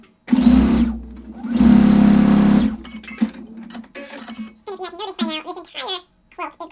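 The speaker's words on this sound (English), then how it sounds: "now we're just going to sew the two sidebars to it" A sewing machine stitches sidebars onto an Ohio Star quilt block in two close, steady whirring runs, the second longer, followed by someone talking.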